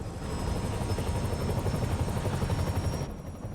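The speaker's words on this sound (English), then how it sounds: "getting reports of a helicopter with a wrecking ball." A helicopter in a Spider-Man video game, heard as a loud, continuous rhythmic rotor chop with a high whine running through it, close by, easing slightly near the end, with no talk.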